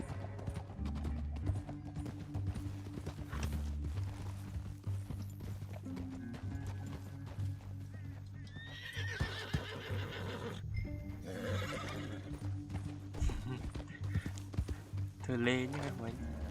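Horses in Red Dead Redemption 2 clop along at a steady hoof rhythm, with a whinny rising near the end over game music and background voices.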